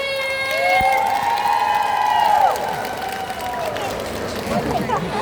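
An outdoor crowd at a temple fair concert screams and applauds to welcome a singer. High shrieks lead over a steady wash of clapping and cheering that fills the whole stretch.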